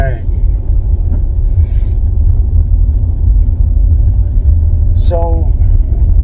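Continuous low rumble of a 2009 Jaguar XF, rear-wheel drive on summer tires, driving through snow, heard steadily from inside the car with brief higher chirps near the start and end.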